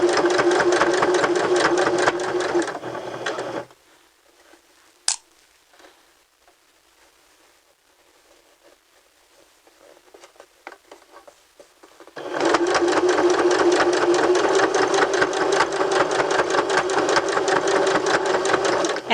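A sewing machine stitches along a folded fabric edge, running loud and steady, stopping for several seconds of near silence, then resuming at full speed.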